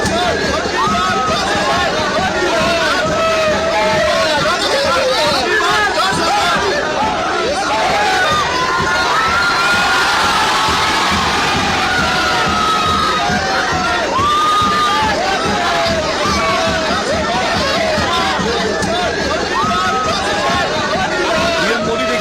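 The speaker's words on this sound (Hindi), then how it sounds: "लोग तालियां बजाने लगे।" A large outdoor crowd gathered for Prime Minister Modi's arrival in Gujarat, sustained dense clapping, cheering and excited chatter filling the whole stretch at high level, with shouts rising and falling throughout.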